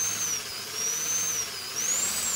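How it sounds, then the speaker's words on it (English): A drill whines steadily on a diecast toy model during restoration, a high continuous tone wavering slightly in pitch with a hissy edge, no voices. "We might just have to take a drill to them now we've got them flat."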